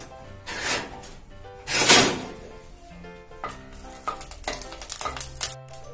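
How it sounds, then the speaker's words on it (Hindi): Bay leaf, star anise and cinnamon dropped into hot oil, with sharp bursts of loud sizzling followed by lighter crackling and clattering as the spices fry. "वो तेल गरम हो गया है तो डाल देंगे तेज पत्ता और ये एक स्टार वाला आता है ना वो मसाला, और एक दालचीनी।"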